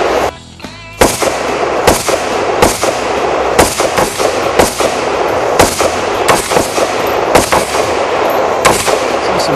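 Police firearms training at a shooting range, with loud, sharp gunshots at a target fired singly in a steady paced rhythm, about a dozen close cracks with short echoing tails.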